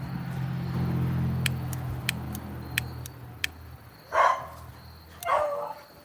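A dog barks twice in the middle distance, short loud bursts a second apart, after a low engine hum fades and a few sharp ticks sound.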